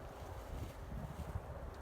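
Wind buffeting the microphone outdoors at a vineyard, a steady low rumble with gusty flutter, fairly loud and continuous.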